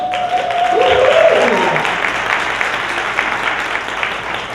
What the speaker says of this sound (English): big round of applause to She's in Color